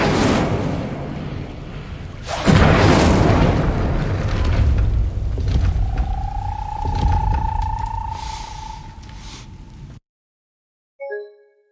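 An Incendio fire spell blasts in Hogwarts Legacy, a loud whooshing boom that swells into a sustained roaring rumble with a rising magical tone, then cuts off abruptly into silence before a brief final burst.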